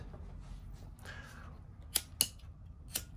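Scissors snip leftover cord on a woven cobra-weave piece, a few short, sharp cuts close to the microphone with a low background hum.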